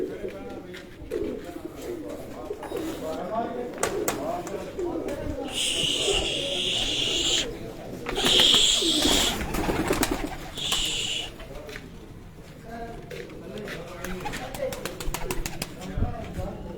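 Breeder pigeons cooing repeatedly outdoors, soft throaty calls recurring through steady background noise, with people talking nearby.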